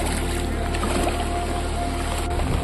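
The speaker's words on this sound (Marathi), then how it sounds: "पाणी वाढायला सुरुवात झालेली आहे आणि भरपूर लाट देखील येत आहेत आणि जोरात पाऊस पडतोय" Waves wash against the shore of a dam during heavy rain, with water and rain noise forming a continuous, loud, broadband rush throughout.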